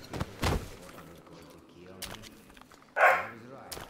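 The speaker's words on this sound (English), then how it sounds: "Doing a stealth mission, have a dog bark right behind your freaking ear." A dog barks close by in the video game Metro Exodus during a stealth mission, with a few sharp barks spread through the clip alongside muffled game ambience and other noises.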